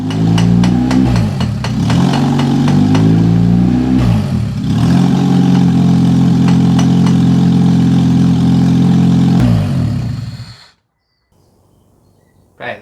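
A K-swapped Honda CR-V engine idles loudly and close, its rumble surging and dipping as the idle hunts from a faulty idle air control valve, then cutting off abruptly into near silence before a brief final noise.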